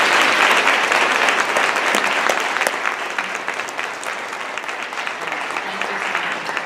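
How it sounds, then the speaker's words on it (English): A crowd applauding loudly at a Phi Theta Kappa induction ceremony, dense sustained clapping that tapers slightly but continues for several seconds. "Let's give them a round of applause."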